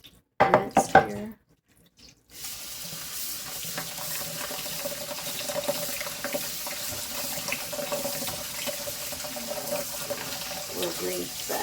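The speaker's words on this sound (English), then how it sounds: "Just keep going until I've got all my tomatoes rinsed here." Running tap water pours steadily into a sink as tomatoes are rinsed, a continuous close hiss after a brief clatter and short pause at the start.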